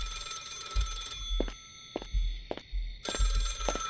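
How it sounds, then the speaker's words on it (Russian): A telephone in a horror video game rings loud and close in repeated shrill bursts, with short quiet pauses between them. "Телефон."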